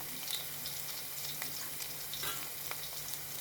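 Spiced masala for a Kerala-style sardine chilli curry fries in a hot pan, giving a steady, close sizzle with soft crackles throughout and no talking.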